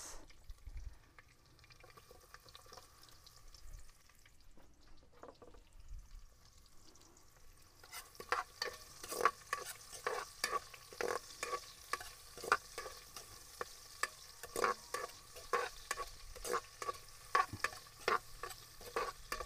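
Sliced onion and garlic sautéing in a pan while being stirred, quiet at first, then a steady sizzle with repeated sharp scraping strokes of a spatula through the second half.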